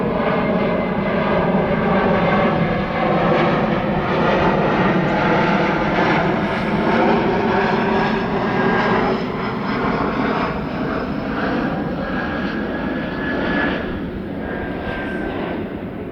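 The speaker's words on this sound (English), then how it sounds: "actual plane going by." An airplane roars past at Palomar Airport on a busy day, its loud, steady engine drone filling the air for about sixteen seconds before easing slightly toward the end, with no talk.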